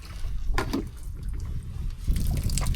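Water trickles and splashes close by on a boat out for night jigging, small liquid dribbles and sloshes over a low steady rumble.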